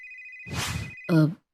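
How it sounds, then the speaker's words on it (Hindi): A telephone rings for a mother receiving a call, a steady electronic tone followed by a burst of ringing and then a short, loud tonal chirp before it cuts off, alone without talk. "एक दिन मानव अपनी माँ को फोन करता है।"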